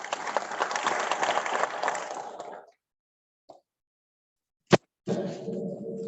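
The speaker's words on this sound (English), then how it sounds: "A round of applause again for Associate Professor Hong Yang" Applause for a webinar speaker, a burst of clapping from a small group that fades out after about two seconds, followed by silence, a sharp click, and a return of clapping.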